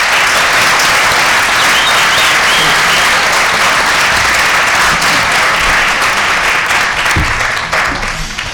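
An audience at a business and tourism career-week management panel gives a loud, sustained round of applause, a continuous wash of clapping that tapers slightly at the end.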